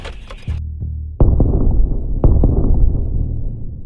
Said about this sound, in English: Ukrainian artillery receives the coordinates of the Russian column and opens fire.